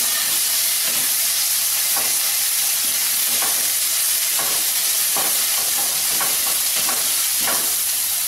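Ginger garlic paste and browned onions frying together in a pan, a loud continuous hiss and sizzle broken by repeated rhythmic scraping stirs, close up with no talk.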